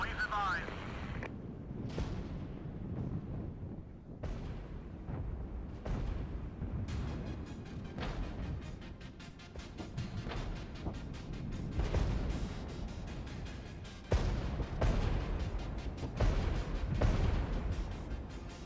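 Artillery fire in the war strategy game Regiments: a run of heavy booms and blasts, some sharp and close, others rumbling further off, continuing throughout amid battlefield clatter, with a voice occasionally talking over it.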